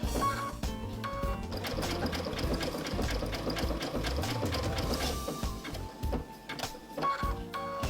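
A sewing machine runs a dense satin stitch along a raw-edge appliqué over stabilizer, its rapid needle chatter steady and close with brief pauses and speed changes, no talking.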